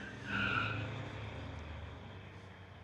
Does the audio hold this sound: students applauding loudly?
no